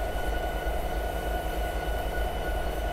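A locomotive in Train Simulator 2018 rolls through a track switch, a steady rumbling of wheels and engine with faint rhythmic clatter, continuous and close.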